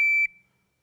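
A shooting timer gives a single sharp, high electronic beep at close range, cutting off abruptly and leaving near silence behind.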